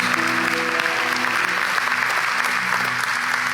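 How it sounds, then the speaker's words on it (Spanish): A church congregation gives steady applause at a Pentecost service, dense clapping sustained over a sung or held musical tone. "denle un aplauso al Rey de Reyes y al Señor de Señores"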